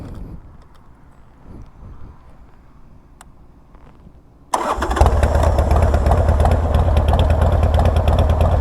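A 2003 Harley-Davidson Sportster Sport, bought used and already hot from riding, sits quietly with faint clicks before its engine catches with a sudden loud start and settles into a steady, throbbing, close idle.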